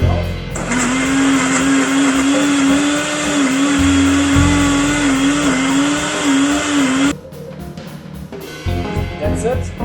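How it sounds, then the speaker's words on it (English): A blender whirs loudly and steadily for about seven seconds, blending salmon marinade ingredients, its motor tone wavering slightly before it cuts off and leaves faint kitchen clatter. "All we really need to do is just blend all those ingredients together."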